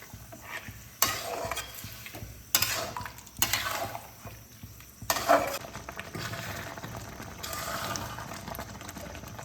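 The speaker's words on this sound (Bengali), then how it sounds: "এই গুড়টা দিয়ে আমি 6-7 মিনিট হাই ফ্লেমে এটাকে কুলটাকে সিদ্ধ করে নেব।" Jujube pickle simmering with jaggery over a high flame, a steady bubbling sizzle broken by several loud scraping stirs of a spoon against the pot, close and alone.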